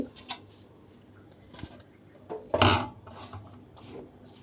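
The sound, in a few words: grinding fried potatoes into a mash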